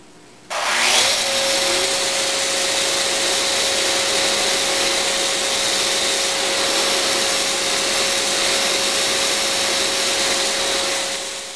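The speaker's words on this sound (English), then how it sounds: "my Rotex sander here with the 36 grit sandpaper, and just uh, very gently and evenly sand down the surfaces that are high" A Rotex sander fitted with 36 grit sandpaper smooths the wooden surfaces of a veneered sideboard, starting abruptly and then holding a loud, steady, close-up whine with an airy rushing hiss until it winds down at the end.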